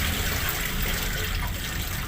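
Steady rushing water pours continuously into a cooking pot, like a tap filling a container, with no speech over it.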